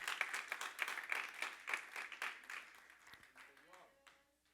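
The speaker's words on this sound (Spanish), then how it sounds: "dale palmas pues ahí" Church congregation clapping hands during a sermon, a dense run of fast claps at moderate distance that thins out and fades toward the end, with a faint tone and a low thump near the close.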